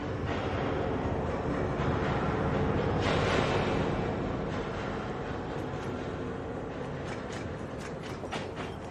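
A train rumbles steadily along the rails, broadband clatter and rolling noise throughout, with faint rhythmic clicks near the end.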